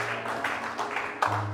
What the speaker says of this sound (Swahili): Shangilia Yesu makofi basi.